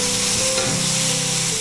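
Chopped tomato fries together with fish and garlic in a hot pan, giving a loud, continuous close sizzle with a faint low hum beneath and no talk.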